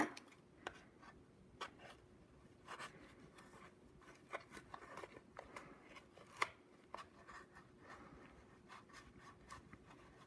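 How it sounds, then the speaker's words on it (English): Scissors cutting through thick bundles of yarn for pom-pom polar bear crafts, a quiet run of scraping, rubbing snips with occasional sharper clicks, close and soft. "this is why you want the good scissors, because we have to cut through all this yarn and all this yarn"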